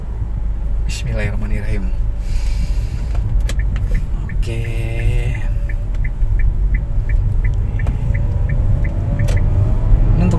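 A 2012 Kia Rio hatchback with a six-speed manual gearbox pulls away, its low engine rumble steady under a man's brief speech. A regular ticking, like an indicator, runs through the second half.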